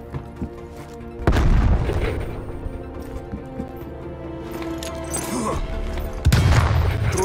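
Frag grenade blasts in Call of Duty: Cold War, with two loud, close booms whose low rumble lingers, set against ongoing gunfire and game noise.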